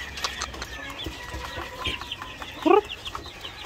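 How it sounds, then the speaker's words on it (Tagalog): Young layer chicks in a cage cluck and peep in short, close bursts, with one louder call standing out near the end. "sisiw natin dito na inilagay natin"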